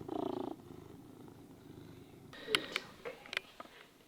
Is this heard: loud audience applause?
no